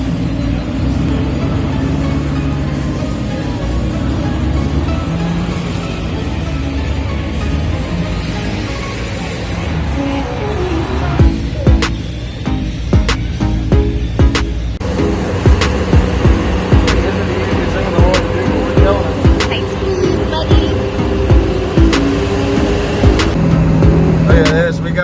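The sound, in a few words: monster truck driving while towing a raceboat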